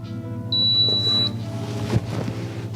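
A crock pot's control panel gives one clear electronic beep, a steady high tone held for under a second when its start button is pressed, over a low background hum in a kitchen.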